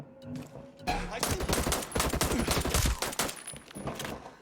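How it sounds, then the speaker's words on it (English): Rapid pistol gunfire from the video game Ghost Recon Breakpoint, a dense burst of quick successive shots lasting a few seconds, loud and close, then dropping back to quiet. "Dude, it's a pistol, man."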